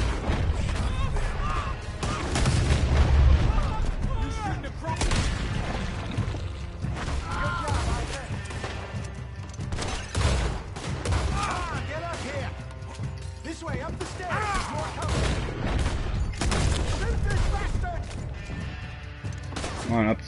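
Gunfire from a gun in Red Dead Redemption 2 rings out in repeated sharp bursts and mechanical clicks across a busy game soundscape, with someone talking over much of it.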